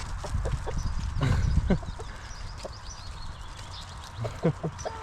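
Green-legged hens being moved into a henhouse cluck in short, scattered bursts close by, over steady farmyard background noise.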